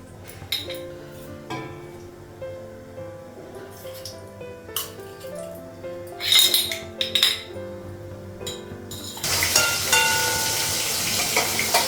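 A lid goes onto a cooking pot with water in a home kitchen, bringing sharp metallic clinks and clatters of pans, followed by a loud sustained hiss of sizzling as the pot heats at close range.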